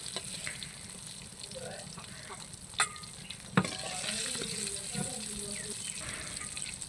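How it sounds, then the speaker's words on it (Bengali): Brinjal slices fry in hot oil in a pan with a soft, steady sizzle, broken by a couple of sharp utensil clacks and light stirring scrapes up close. "বাকি যে বেগুনের চাকগুলো রয়েছে সেগুলোকে ভেজে নিব"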